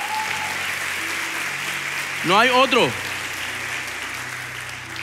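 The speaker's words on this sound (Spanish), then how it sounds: "aplauso también" Steady applause from a church congregation, continuous clapping heard throughout, with a voice briefly speaking over it.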